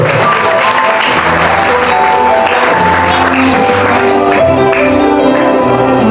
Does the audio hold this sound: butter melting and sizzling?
no